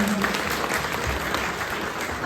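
Audience applause at an open-air Hindi poetry gathering in Ethiopia, a dense, steady patter of many hands clapping throughout at moderate distance.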